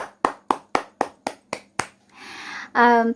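About eight crisp, evenly spaced hand claps at a dance competition final round, close and loud, followed by a brief hiss and a short tonal sound.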